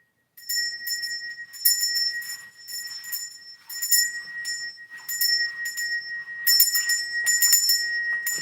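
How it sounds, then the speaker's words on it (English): A small temporary hand bell rings in repeated bright bursts of shaking, clear high metallic tones sounding alone and near, with brief pauses between clusters. "I had a bigger bell, but this was like a temporary replacement"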